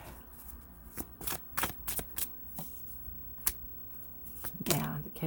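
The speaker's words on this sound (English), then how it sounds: "I'm going to give a quick shuffle." Tarot cards are shuffled by hand, a series of quick crisp riffles and slaps close by, irregular and fairly quiet.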